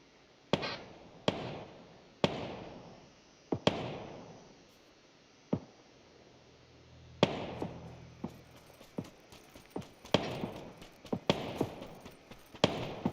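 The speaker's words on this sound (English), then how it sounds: "Somewhere is also shots coming from." Gunfire in the game PUBG Battlegrounds: roughly a dozen sharp cracks at irregular intervals, each with a ringing echo tail, some sounding far off and others nearer, with a brief low rumble midway.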